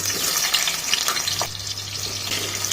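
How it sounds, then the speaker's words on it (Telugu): Chopped onions dropped into hot oil for a chicken curry sizzle and crackle steadily throughout, a dense close frying hiss with a low hum underneath and no one speaking. "నూనె మంచిగా వేడిగానే సన్న కట్ చేసుకున్న ఉల్లిగడ్డ వేసుకుందాం."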